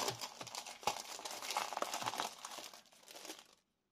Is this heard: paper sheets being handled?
yes